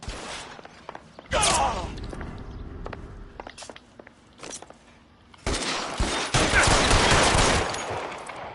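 Bursts of gunfire in the 1940s Los Angeles detective game L.A. Noire: sharp scattered shots, then long sustained volleys, close and loud, with footsteps in between.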